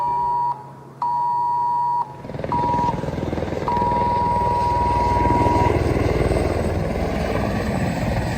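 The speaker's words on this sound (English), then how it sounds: "a helicopter just showed up" A helicopter arriving overhead in Dubai during a conflict, its steady loud rotor chop rising into a dense drone, with repeated electronic alert beeps sounding over the start.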